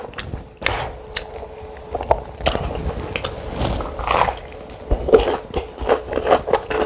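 Fried shrimp tempura being bitten and chewed up close, with crisp crunching bites followed by moist chewing in an irregular rhythm.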